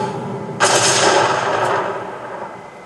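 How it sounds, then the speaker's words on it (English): A sudden loud blast in the video game Alan Wake's The Writer DLC erupts and then rumbles off into a fading roar, heard alone without talk. "Tomb Raider explosion noise."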